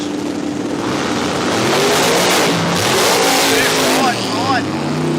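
Drag radial race cars launching down the strip at Willowbank, Australia, a turbo car against a supercharged one, loud roaring engines rising in pitch as they accelerate away, with crowd and commentary mixed in.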